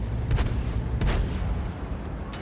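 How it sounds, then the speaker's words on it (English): A T-44 tank's gun in World of Tanks fires a tracking shot, heard as a deep, booming blast with a heavy low rumble, followed by a second sharper report and a faint later crack. "T-44 punishes us with a tracking shot"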